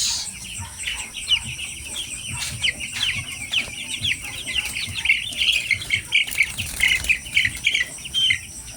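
Ten-day-old chicks peep in a busy, continuous chorus of high chirps while being weighed, close and fairly loud with a few sharper calls.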